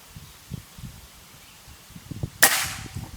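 One sharp, loud shot from an X-Trabig Goblin double-plenum air rifle snaps close by after a few seconds of gusty wind rumbling against the microphone.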